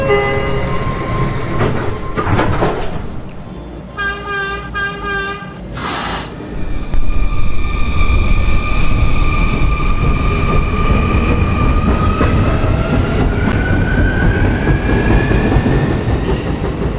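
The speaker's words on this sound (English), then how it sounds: "This is a Rentar Plaza bound B train." An R179 subway train in the Roblox game PTA Subway, with door chimes and beeps, then a loud rising motor whine and a rumble of wheels on rails as the train pulls away and speeds up.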